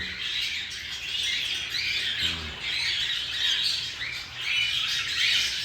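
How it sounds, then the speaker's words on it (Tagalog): Several birds squawk and chatter continuously close by, in repeated harsh bursts with a low background rumble. "So ayan sila mga kaibon no."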